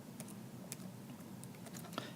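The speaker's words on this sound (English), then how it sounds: "I'm just going to type that out just so we know." Quiet, scattered key clicks of typing on a computer keyboard, soft and irregular taps spread over a couple of seconds against a low hum, with no talk.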